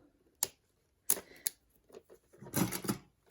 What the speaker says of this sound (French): je vais couper ça avec mes petits ciseaux